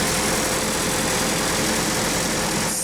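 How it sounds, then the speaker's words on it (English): Engine idling steadily after its cracked exhaust manifolds were replaced, a continuous close rumble with a broad hiss and no audible exhaust leak, running alone for about three seconds. "Here it is running. It sounds totally different with no exhaust leak."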